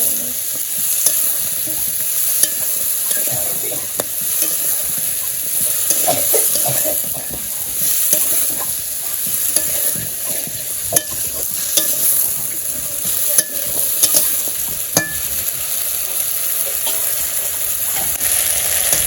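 Vegetables fry loudly in a pan in a village kitchen while being stirred with chili and turmeric powder: a constant close sizzle with repeated sharp spatula scrapes and taps, and no voices.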